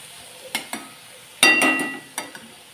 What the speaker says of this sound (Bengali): এদিকে চলছে বাঁধাকপি ভাজা।